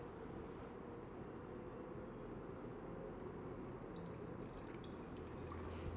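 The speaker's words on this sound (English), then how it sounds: "fill it with water." Water poured from a tap or jug into a pan on a gas stove, a faint steady rushing splash that runs throughout, with soft drips toward the end.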